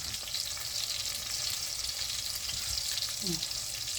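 Chicken cutlet frying in hot oil for a cutlet parmesan dinner gives a steady, loud, close sizzle that crackles evenly throughout, with no talking.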